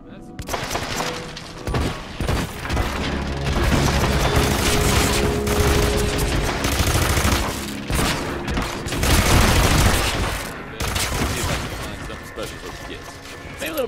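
Rapid pistol fire at an indoor shooting range in Hitman: Absolution, with shots cracking in fast, overlapping bursts over a steady mechanical din for the whole stretch.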